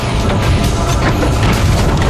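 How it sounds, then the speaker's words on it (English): Jet aircraft tyres burst one after another under emergency braking on a runway, loud booming bangs layered over a continuous roar of rolling and engine noise. "Bang, there goes the tyres."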